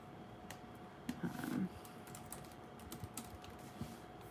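Fingers type on a computer keyboard in quick, irregular clicks, faint and close, with a brief louder cluster partway through and no speech.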